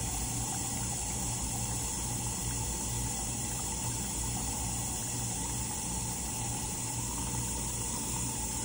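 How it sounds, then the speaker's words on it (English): Water runs steadily at a scrub sink as hands are rinsed during a surgical hand scrub, a continuous broadband splash and flow with no talk over it. "And I will rinse that away"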